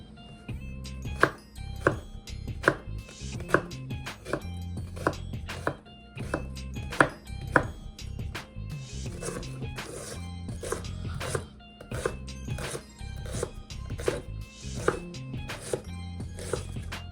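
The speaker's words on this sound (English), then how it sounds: "chopping up a finely diced red onion and a little bit of carrots" A kitchen knife chops a red onion and carrots on a cutting board: a brisk, fairly close run of sharp, rhythmic taps, sometimes quick and sometimes in short pauses, with no talking.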